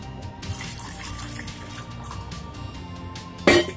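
Water poured into ground rice batter for soft vattayappam, a steady liquid splash and trickle running throughout with a brief louder gush near the end, no talking.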